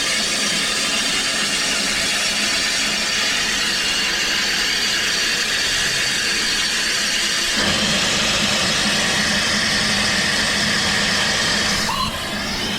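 British Rail locomotive 305086 idling at close range before heading down the line, a loud steady diesel rumble that shifts in tone midway, with no talk over it.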